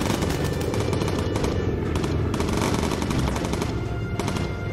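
Bomber gunners fire continuously in the Bomber Crew video game, with dense, rapid machine-gun bursts overlapping into an unbroken clatter that stays loud throughout.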